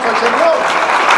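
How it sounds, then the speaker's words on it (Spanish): A church congregation claps loudly and steadily in a dense, continuous burst, with a voice talking over the applause throughout. "Denos un fuerte aplauso al Señor."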